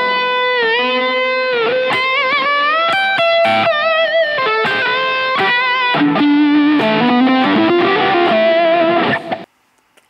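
An electric guitar through a Boss DS-1 distortion pedal on a Marshall setting plays a heavy, saturated riff of sustained and bent notes with quick chord stabs, loud and alone, ending abruptly.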